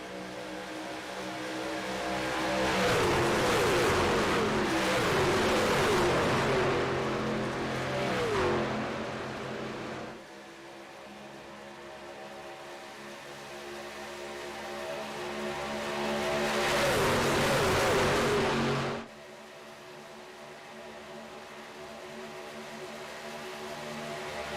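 Race trucks thunder around an oval during the Norctona Truck 250 in the iRacing simulator. Two loud, roaring swells of the pack pass close by, each followed by a quieter stretch of steady engine drone.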